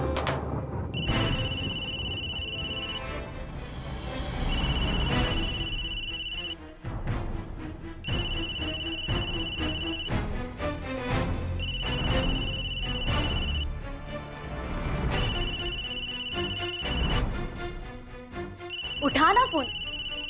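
A telephone ringing repeatedly in regular electronic trilling bursts, about six rings over the span, under continuous dramatic background music and people talking.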